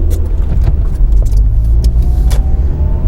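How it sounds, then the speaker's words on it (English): Idling engine of a manual car lugging down while braking in fourth gear, a low steady rumble holding loud and close throughout, with a few faint clicks and rattles on top. "you can see that it starts to lug down on the engine"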